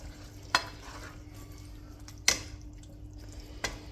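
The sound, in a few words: stirring chilli con carne in a pot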